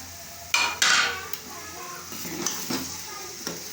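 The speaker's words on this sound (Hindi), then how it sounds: "ये हमने गोश्त डाल दिया" Meat drops into a hot pot for pulao with a loud hissing sizzle, followed by steady crackling and a few scrapes of a utensil against metal.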